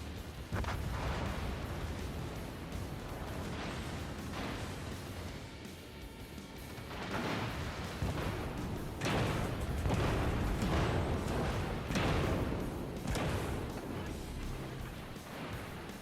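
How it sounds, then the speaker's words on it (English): Ship guns in a naval video game fire semi-armor-piercing shells in rapid succession, a string of loud booming blasts at uneven intervals over a constant rumbling battle backdrop. "you can see how fast it's just dumping those SAP shells over there"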